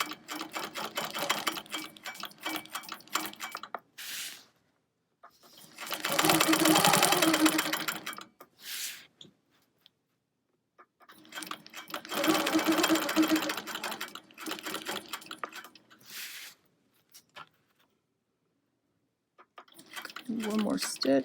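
Sewing machine stitching a wholecloth quilt, buzzing in rapid runs of a few seconds with quiet pauses between as the work is turned, the motor close and fairly loud; a few softer clicks and handling noises fill the gaps.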